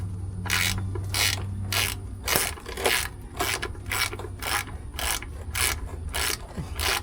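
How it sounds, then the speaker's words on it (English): A ratchet clicks in quick repeated bursts, about a dozen strokes at a steady rhythm, as a drain bolt is tightened on a truck transmission pan; close and fairly loud, with a low hum underneath. "let me tighten this, what is it called, drain bolt on here"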